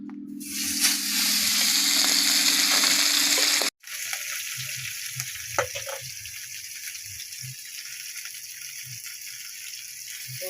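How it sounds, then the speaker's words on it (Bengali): Tilapia fish frying in oil crackle and sizzle loudly with a bright spattering hiss, then after a brief cut a quieter, sparser sizzle continues with occasional pops and soft clatter. "দেখেন মাছ ভাজবো, দেখেন আপনারা সবাই দেখেন, এই তেলাপিয়া মাছ ভাজবো।"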